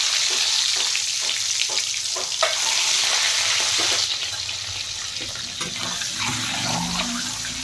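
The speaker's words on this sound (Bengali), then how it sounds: "এখন আমি ডিমগুলো ভেজে নেব।" Eggs fry in hot oil seasoned with turmeric and salt for an egg curry, a close, steady sizzle with occasional clinks and stirring, no talking.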